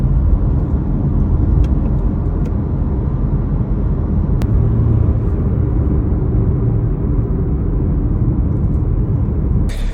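Steady low rumble of a BMW 340i exhaust idling through its muffler tips, a continuous close-up drone that holds level for the whole stretch, with no voices over it.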